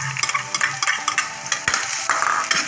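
Onions go into hot oil in a pan, giving a frying sizzle with scraping and stirring clatters, close and fairly loud, with no talking.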